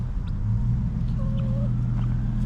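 Domestic chickens in a front yard give a few soft clucks and a brief call over a steady low rumble of traffic or an engine.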